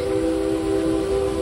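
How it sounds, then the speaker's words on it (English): The steam whistle of Frisco Silver Dollar Line locomotive number 504 sounds a steady, loud, sustained toot, a single held tone with no talk over it. "Give me a few more toots on that whistle there, Ichabod."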